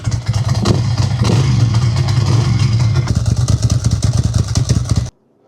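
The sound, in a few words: Ducati motorcycle engine running, warming up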